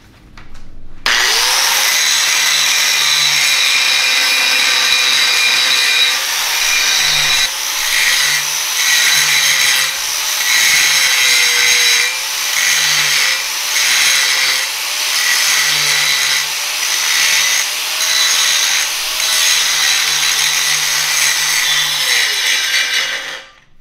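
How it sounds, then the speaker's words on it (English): Angle grinder with a quarter-inch disc grinding down a weld root, a loud, close, continuous high-pitched whine and grinding roar lasting over twenty seconds with slight pitch dips as pressure changes. "We're gonna take this quarter inch disc and grind it down and get all those wagon tracks out of it."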